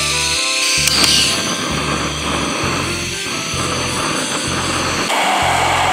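A $50 Bluu backpacking gas stove burns outdoors, heating water for Labrador tea, giving a steady, close, continuous roaring hiss that stays even throughout with no talking.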